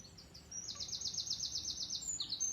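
Small birds chirp in quick repeated high tweets, a bright run of calls in the middle with a few more near the end, over a quiet background.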